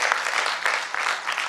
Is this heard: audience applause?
yes